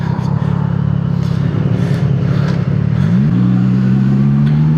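A motorcycle engine with a quick shifter holds a strong, steady drone while riding, then the pitch dips briefly at an upshift and climbs smoothly again, close and loud with no jerky break.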